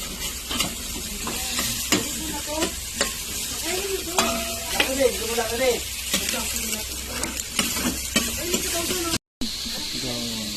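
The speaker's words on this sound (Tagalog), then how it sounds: "Ito na nagluluto." Pork sisig frying in a pan with a steady, bright sizzle and repeated scraping and stirring strokes, while voices talk over the cooking and a brief gap of silence falls near the end.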